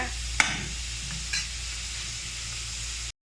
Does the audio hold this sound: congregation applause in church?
no